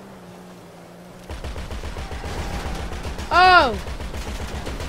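Gunfire crackles in rapid bursts during a chaotic Grand Theft Auto V online free-roam shootout, steady and dense after a quieter start, with players shouting over it.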